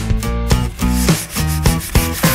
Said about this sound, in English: I've had about enough of this sandpaper.